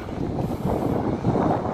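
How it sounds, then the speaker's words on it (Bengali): Steady sea wind blowing at the shore in Lusail, Qatar, a continuous low rushing gust that swells slightly midway, close to the microphone with no voices. "খুব সুন্দর বাতাস।"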